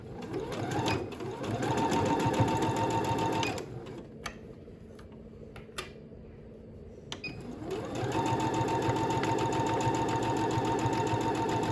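A sewing machine stitches fabric scraps in two bursts of fast, steady whirring, close and clear. A quieter pause with a few clicks falls between the runs, and no one speaks.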